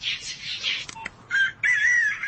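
A rooster-style crowing ringtone plays from a mobile phone in short electronic bursts, the clucks and crows cutting in and out with brief gaps before a longer final crow.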